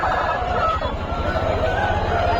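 An active Aseel rooster of a Tamil Nadu breed calls at the busy Pileru chicken market, its drawn-out, loud crow set against constant crowd noise and some talking.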